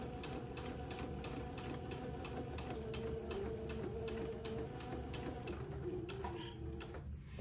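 Steady mechanical ticking of a home sewing machine topstitching a waistband with a scant 1/8 inch seam, fast even stitch clicks running continuously from start to finish at close range.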